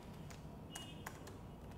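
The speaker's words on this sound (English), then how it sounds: "So what I'll do is, I'll just type here as" Light, sparse taps on a computer keyboard while data is typed into a test-automation tool, a few faint clicks spaced irregularly over a quiet background hiss.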